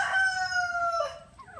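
A native rooster, a large upgraded bird of about three kilos, crows once in a long drawn-out call, near and clear, then trails off into a short falling note, with no talk over it.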